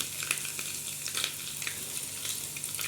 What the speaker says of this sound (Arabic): انا حطيت لا التومه بتاعتي اهي هتبتدي تدي لون. احط الكزبره